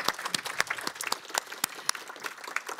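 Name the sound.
audience applause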